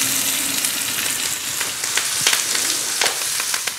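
Beef seared in hot rapeseed oil with a peppercorn crust sizzles steadily in a pan, a close, continuous frying hiss with scattered crackles and pops throughout.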